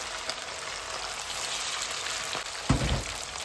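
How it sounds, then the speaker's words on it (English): Chicken shallow frying in a pan, a continuous close crackling sizzle that swells briefly near the end as a bump or stir disturbs it, with no one talking. "I'm just going to shallow fry them for just 2 minutes"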